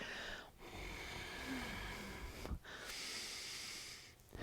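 Ocean-like yoga breath drawn through the nose and dragged across the throat, a soft airy rasp in long drawn cycles separated by brief pauses, close and quiet.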